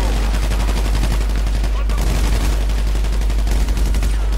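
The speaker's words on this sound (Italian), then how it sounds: "E gli altri continuano a sparare al centro della mappa." Relentless gunfire in the tactical shooter Insurgency, loud dense automatic bursts and rattling shots filling the entire stretch without pause, with a low hum underneath.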